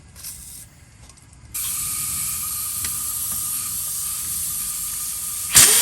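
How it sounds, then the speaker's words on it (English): WD-40 sprayed onto a car brake bolt makes a steady, close aerosol hiss that starts after a brief quieter lead-in and continues several seconds, ending with a short clunk. "Use some WD-40"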